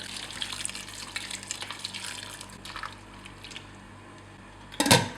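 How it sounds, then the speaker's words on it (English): Water pours and splashes steadily into a cooking pot of soup for a few seconds, then fades, ending with a brief louder splash or clatter. "I'll add more water"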